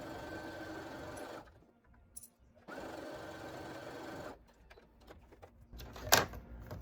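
A sewing machine stitches strips of a quilt block in two close bursts of rapid mechanical whirring, with a pause and quiet handling noises between them and a sharp clack near the end.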